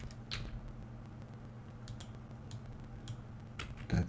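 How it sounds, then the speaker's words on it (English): Keys on a computer keyboard are pressed in a few sparse, quiet clicks over a low steady hum, with a louder cluster at the end. "Ctrl plus on numerical keyboard"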